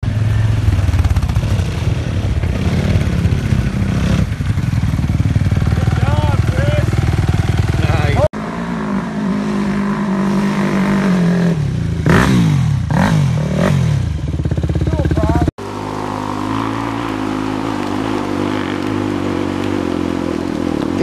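A motorcycle engine starting and running during a summit hill climb, a raw, loud engine note with rising revs, clatter and scraping across several cut segments, with people talking over it.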